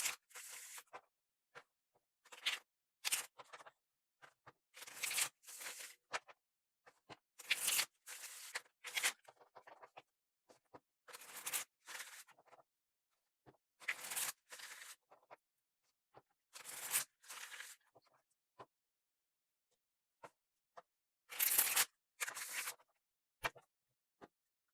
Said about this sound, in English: Let me go ahead and do a quick shuffle of the cards I want to use